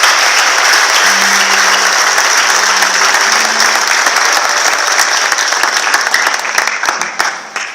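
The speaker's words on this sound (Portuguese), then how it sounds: "Vamos aplaudir esse Jesus." A church congregation at an evangelical service breaks into loud, sustained applause, a dense roar of clapping close up that holds steady and then thins into scattered claps near the end.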